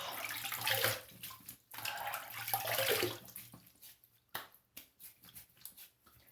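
Cold tap water running into a basin while the face is wetted before shaving, a close splashing flow in uneven bursts that breaks into short splashes and drips toward the end.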